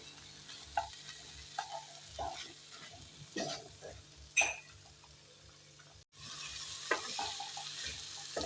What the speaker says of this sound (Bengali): এই চানাটাকে আমি ভালো করে কষিয়ে নেব মশলার সাথে